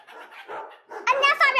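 A dog barks in short yapping bursts, loud and close, with the sharpest barks near the end of the moment; no talking alongside.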